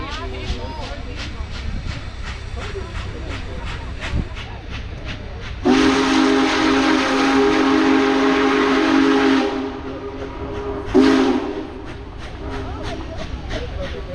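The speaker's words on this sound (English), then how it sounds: "Let's get some steam going here." The Big Boy steam locomotive loudly blasts a long whistle and hiss of venting steam, then a shorter burst, over rhythmic chuffing and rumbling.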